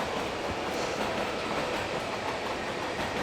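Steady, loud rumble of a moving train with a rhythmic clickety-clack of wheels on the rails, continuous throughout.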